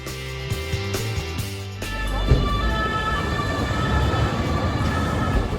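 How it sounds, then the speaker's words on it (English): A Paris métro train pulls into the station, a rising mechanical whine and hum giving way to a loud, steady rumble of wheels and cars rolling close by, with no talk over it. "Here it comes. The train de métro."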